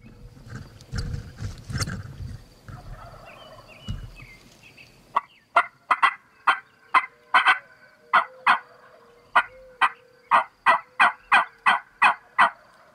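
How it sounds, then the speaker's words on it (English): Wild turkeys in Montana gobble repeatedly after calling. Sharp, loud gobbles come in a steady series, preceded by a muffled rustling stretch at the start. "birds went to gobbling again"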